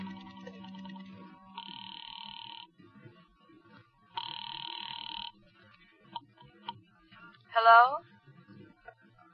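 A telephone rings after a number is dialed from a phone booth in a radio drama, two evenly spaced electronic rings with brief pauses, preceded by a low voice and followed by a short sound.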